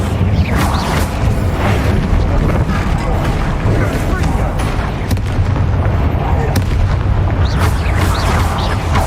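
An Incendio fire spell is cast in the Hogwarts Legacy game, a loud, dense roaring rumble with booming bursts and crackling flares that fills the whole stretch, with a voice sounding over it.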